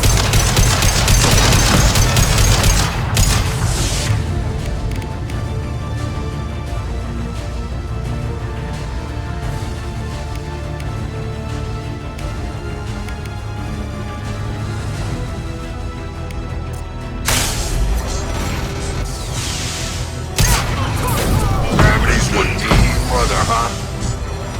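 Gunfire fills a Mass Effect 2 firefight, dense bursts and booms running almost throughout over a bed of game music and effects, with talk faintly present.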